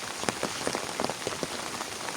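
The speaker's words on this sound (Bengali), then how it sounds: "আল্লাহ রহমতের বৃষ্টি হয়ে গেল অবশেষে" Steady rain falls on a village morning, a dense, even patter of drops striking surfaces nearby, with scattered sharper splashes rising out of the constant hiss and no one speaking.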